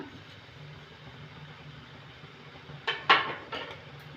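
Grated potato and fried ground spices being stirred together in a pan over a medium gas flame, with a low steady hum and then a few sharp scraping clanks of utensil against the pan near the end.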